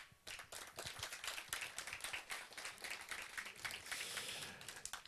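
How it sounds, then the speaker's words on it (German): Audience at a community event in Gera, Germany, bursts into sustained applause, dense clapping from many hands filling the room steadily for several seconds without pause. "Und ein ebenso kräftiger Applaus"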